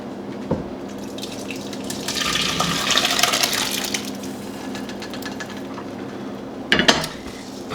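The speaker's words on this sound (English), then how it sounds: "now I think you can just pour it" Soup poured from a pot in a home kitchen: a sloshing liquid stream that swells in the middle, with sharp metallic knocks of the pot near the start and again near the end.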